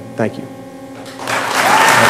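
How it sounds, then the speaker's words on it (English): Audience applause breaks out at a 2010 political debate for Virginia's 5th District, rising loud and steady near the end after a brief spoken thanks at the start. "There'll be plenty of time for applause when we're done."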